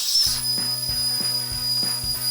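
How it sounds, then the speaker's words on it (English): A pressure cooker vents steam through its valve in a loud, steady high hiss, with a rhythmic rattling clatter of the valve pulsing underneath roughly every third of a second. "That's the sound of goodness. We're releasing the steam."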